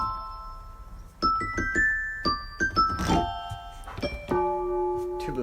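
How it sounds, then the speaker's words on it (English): Yamaha PSR-E453 electronic keyboard playing its music box voice, bright plinking notes in a short irregular melody, each ringing and decaying, with a few soft knocks. "Music box."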